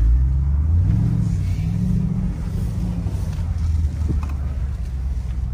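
A car engine revving and accelerating hard, a loud, deep, continuous rumble with the pitch rising and falling, heard close up with wind buffeting.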